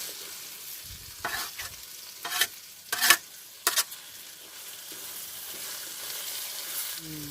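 Fresh mint leaves dropped into a mixed chutney frying in a pan over a wood-fired stove, with a steady soft sizzle and several loud scraping stirs in the middle, no talk.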